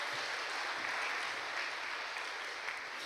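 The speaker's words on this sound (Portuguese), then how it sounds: "Uma salva de palmas para os nossos atores." A church congregation claps continuously for a few seconds for the actors, a dense, even patter of applause heard from a moderate distance.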